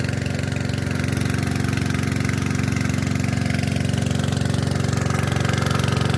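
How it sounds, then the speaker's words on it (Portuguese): A motor driving a water pump runs steadily for several seconds with a loud, even, throbbing drone and a fast rhythmic pulse, with no voices. "Olha pra vocês verem o tamanho do motor que tá puxando a água."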